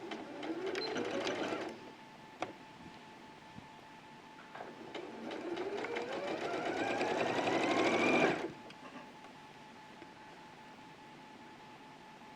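A sewing machine stitches over a gathered fabric line in two runs, a short burst then a longer one that speeds up into a rising rapid whir, alone and fairly close.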